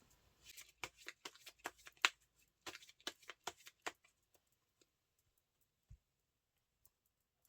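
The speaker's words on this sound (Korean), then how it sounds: "어떤 방해 요소가 있는지 카드 몇 장을 뽑아 볼게요." Tarot cards are shuffled and drawn close by in a quiet room: a quick run of crisp riffling flicks and slaps over the first few seconds, then a couple of soft isolated taps.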